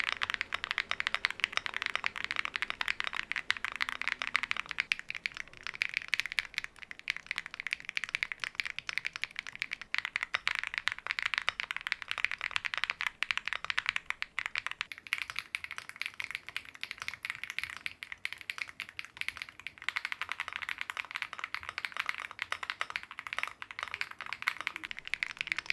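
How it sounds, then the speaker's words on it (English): Typing on a Zen65 mechanical keyboard fitted with HMX FJ400 switches makes a continuous, fairly quiet stream of rapid, poppy keystroke clicks, heard close up on their own without anyone speaking. "The build with the FJ400s has that creamy poppy sound signature"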